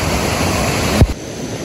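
A stream swollen after a storm rushes steadily, a broad continuous roar of flowing water with a brief bump of handling noise partway through.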